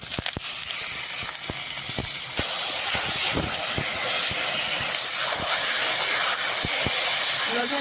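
Garlic sizzles in hot oil with bay leaf and well-fried spices, a steady loud hiss spanning the whole stretch, broken by small pops and clicks of stirring up close.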